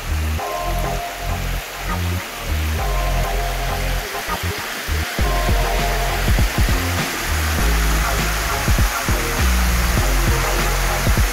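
Steady rushing water pours without a break, a full broadband roar like a waterfall close by, with occasional splashes standing out, at Gozalandia falls in San Sebastián.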